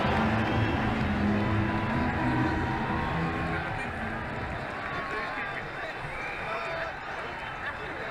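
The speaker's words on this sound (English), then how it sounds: "Just listen to the crowd." A large crowd roars and cheers in a stadium after a six in the video game Ashes Cricket 2009, loud at first and easing slightly, with a commentator's voice talking over it.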